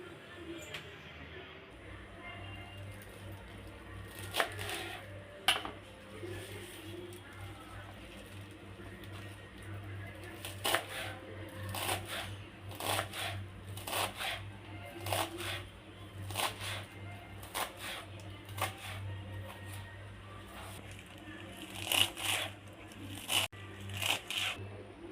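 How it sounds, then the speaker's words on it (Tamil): A knife finely chops cleaned siru keerai (amaranth greens) on a board, giving a run of sharp, irregular cutting taps over a steady low hum, close and fairly quiet, with no one speaking. "இதை பொடியாக கட் பண்ணிக்கலாம்."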